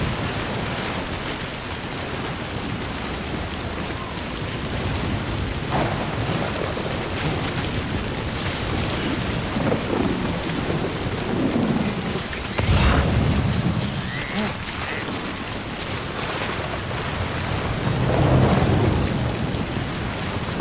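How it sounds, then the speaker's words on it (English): A thunderstorm in the video game Death Stranding plays for about twenty seconds: steady rain hisses throughout while deep, distant thunder rumbles rise and fade several times, with no talking. "there's another storm coming"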